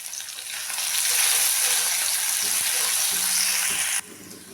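Peanuts and chunks of boiled potato sizzle in hot oil in a pan for sabudana khichdi, a loud, steady frying hiss with light stirring, cutting off abruptly near the end.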